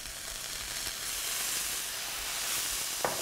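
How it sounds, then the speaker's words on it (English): Worcestershire sauce hits a hot pan for a sweet potato shepherd's pie, giving a steady, fairly quiet sizzling hiss that holds evenly, ending with a short knock near the end. "And now for about a tablespoon of Worcestershire sauce."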